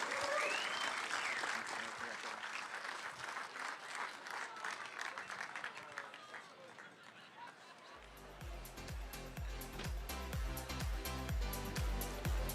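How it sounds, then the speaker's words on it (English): A crowd applauds at the podium ceremony of the Gold Coast Marathon, a steady outdoor clapping that runs on under a faint voice and then joins loud amplified music. "one last massive round of applause for Haftu Strinos and everybody on the podium today"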